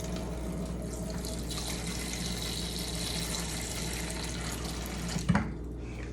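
Water runs in a steady, continuous trickle, pouring gently into a seed tray of soil, with a brief louder splash or bump near the end.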